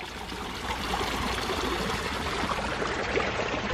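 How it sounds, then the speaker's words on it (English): Small water fountains trickle steadily at a peaceful Walt Disney World resort, Saratoga Springs, a continuous soft splashing wash close by with no voices. "Little water fountains everywhere."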